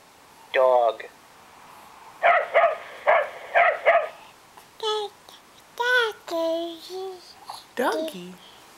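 A person imitates a dog barking with a quick run of four or five short, evenly spaced woofs, close to the microphone, among other brief vocal sounds and spoken words.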